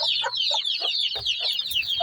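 A broody hen raised at home gives a rhythmic run of low clucks, about eight in two seconds, close and clear beneath continuous shrill cheeping of chicks.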